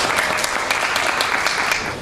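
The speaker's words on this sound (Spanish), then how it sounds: "Fuerte aplauso para Alejandro." An audience at a Godzilla fan weekend event claps loudly for Alejandro, the winner of a monster contest, in dense, steady applause that fills the whole stretch.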